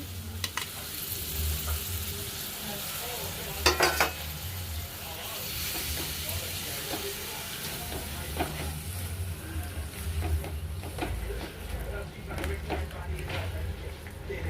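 A pan of Telugu-style fish curry with tomato pieces is stirred over a low flame, the oil sizzling and hissing steadily throughout, with scraping spoon strokes and occasional louder clatters near the start.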